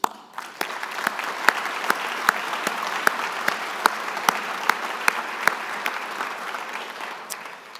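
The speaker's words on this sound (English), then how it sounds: "I would like to give a round of applause to the parents," An audience at a YMCA annual celebration applauds with loud, steady clapping from many people for several seconds, with a few individual claps standing out.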